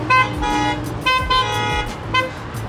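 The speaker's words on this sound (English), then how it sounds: "We got a horn war over here. Well, while they're honking their horns" Several car horns honk back and forth in a street, with repeated loud toots of varying length overlapping one another in an outdoor setting near parked BMW cars.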